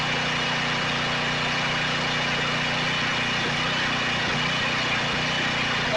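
A Generac 7000 portable generator engine runs steadily at idle, a continuous low droning hum with constant mechanical vibration, close and alone with no talk.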